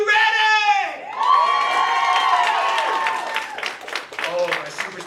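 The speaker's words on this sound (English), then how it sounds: "all the clapping and cheering is for you" A live hypnosis show audience claps and cheers loudly, a dense wash of applause, whoops and shouts from the crowd filling the room, close and sustained throughout.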